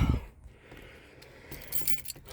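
A bunch of keys jangles and clinks close by in short bursts, with a brighter rattle near the end, while someone hunts for them in a garage setting.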